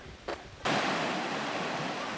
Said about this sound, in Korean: 물소리가 시원한 이곳은 러시안 폭포입니다.